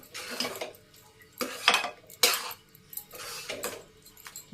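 Metal spoon stirring food with ghee in a cooking pan, several clinking, scraping strokes up close in an irregular rhythm, without speech.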